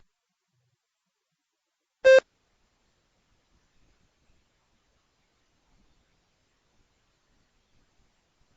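A single short electronic beep sounds once, clear and isolated against silence, marking the start of preparation time in a TOEFL speaking practice test.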